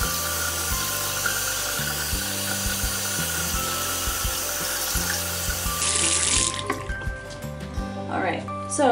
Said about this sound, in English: And I'm just going to rinse everything out.